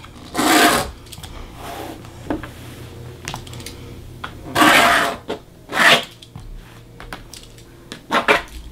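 A pencil drawn along a ruler to mark a trim line on a quilt center block: several short scratchy strokes and rubbing bursts with light tapping and handling noises between them, close by.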